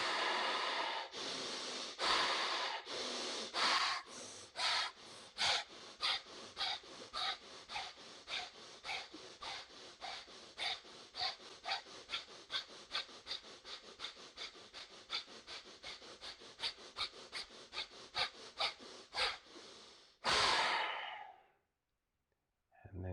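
Rapid yogic breathing strokes in a pranayama round of about 30, forceful rhythmic exhalations repeating steadily and close up, ending in a deeper final breath before a brief silence.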